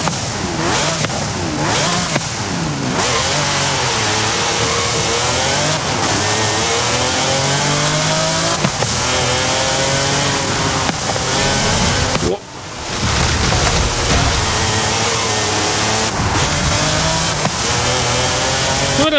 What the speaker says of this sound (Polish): mnie tak nie porwał ten dźwięk tego samochodu